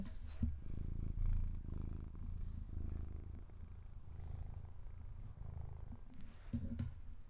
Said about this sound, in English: if you hear any sort of purring, there's a happy kitty next to me.